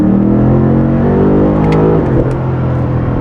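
BMW F90 M5 with a full Valvetronic Designs exhaust, valves open, revving hard inside the cabin: a loud, continuous harmonic engine drone rising in pitch, then a brief dip and lift as revs change, with no talking.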